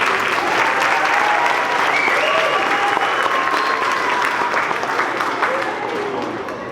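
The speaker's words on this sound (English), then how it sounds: "Let's give Steve Wilson another hand clap." An audience at an education awards ceremony gives a sustained round of hand clapping, loud and dense throughout, easing slightly toward the end.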